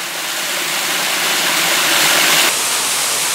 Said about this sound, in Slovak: A tak sme prišli k vodopádom Sacharna.